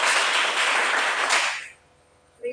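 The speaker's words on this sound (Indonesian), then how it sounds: "terima kasih, tepuk tangan" Schoolchildren clap together in a classroom, a loud dense burst of applause that stops abruptly after about a second and a half, leaving near silence before a brief sound at the end.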